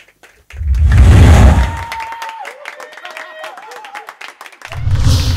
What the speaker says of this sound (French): Est-ce qu'on peut applaudir pour Jordaniel?